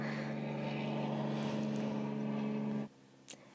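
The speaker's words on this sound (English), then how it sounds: "there's a plane flying really close to my window right now." A propeller plane passes close outside a window, giving a loud, steady droning hum that cuts off abruptly near the end, followed by a brief faint knock.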